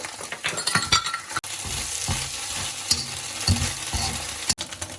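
Eggs frying with chili paste in a pan for Sri Lankan chicken fried rice, a close, steady sizzle with repeated scraping stirs and occasional metallic clinks of a utensil against the pan.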